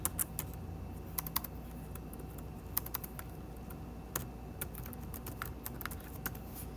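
Soft, steady typing on a computer keyboard, with irregular key clicks and a few sharper taps over a quiet background hum.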